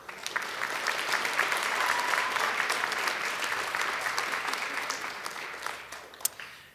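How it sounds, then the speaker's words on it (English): Audience at a college academic and leadership awards convocation breaks into sustained applause, a dense wash of clapping that swells quickly, holds for several seconds and tapers off. "let's give one more round of applause to our academic awards recipients"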